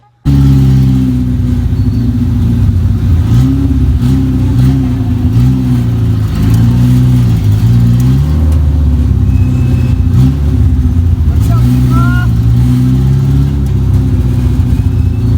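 A Tamiya owner-type jeep engine revs at a steady high idle, a loud, continuous mid-low rumble with slight wavering pitch and no talking.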